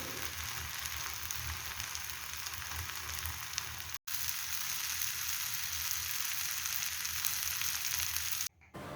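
An onion, carrot and tomato uttapam frying on a pan gives a steady, even hiss of sizzling oil that continues throughout, broken only by a momentary gap.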